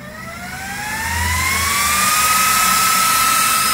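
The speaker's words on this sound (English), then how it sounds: "Fans, they're gonna blast at full speed." Cooling fans in a Ubiquiti OLT GPON fiber unit spin up at startup, a rising whine that climbs in pitch over two seconds and then holds as a loud, steady, close whir.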